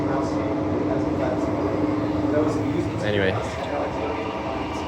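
Interior of an A-series electric train on Perth's reopened Armadale line, a constant loud rumbling drone of motors and air conditioning, with a faint brief squeal on a curve and someone speaking over it.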